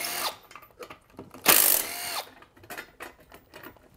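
A small tool works on the Allen screws of a Schröder leaf blower during a teardown, giving short rapid whirring bursts and ratcheting clicks, with one louder, sharper burst near the middle, close up and without speech.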